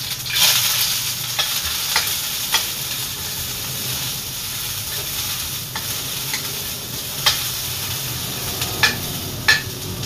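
Onions fry in a hot pan, giving a loud, continuous sizzling hiss with scattered sharp crackles and stirring scrapes, close up with no voices.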